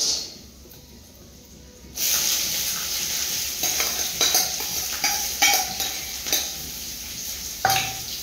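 Roasted peanuts are stirred into poha frying in a pan, giving a steady close sizzle with scraping and clinking stirring strokes, starting after a quieter moment and continuing without talk.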